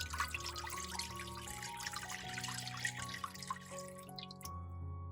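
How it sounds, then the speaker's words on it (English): A little water poured into a cooking pot before a steamer tray goes on top, a soft, steady trickle and splash with faint ringing tones, close and quiet, ending abruptly. "Pour a little water into the pot."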